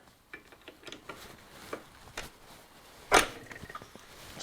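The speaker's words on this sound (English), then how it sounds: "I'll just pop the back gears in. That locks the spindle so it can't turn." Lathe back gears engaged to lock the spindle on a workshop lathe: a few light metallic clicks and taps, then one sharp clunk of the gears meshing, close and fairly quiet.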